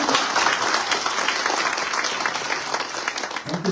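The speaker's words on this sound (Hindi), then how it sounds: "जोरदार तालियां।" A church congregation at a Christmas service bursts into loud, sustained applause: dense, steady clapping from many hands that fills the room with no break.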